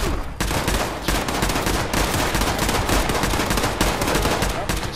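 Rapid video game gunfire rattles nonstop in loud machine-gun-like bursts, close and intense, with faint voices under the shooting.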